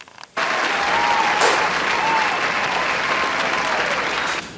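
An award show audience bursts into loud, sustained clapping after a brief quiet start, with scattered whoops and voices blending into the steady roar until it fades slightly at the close.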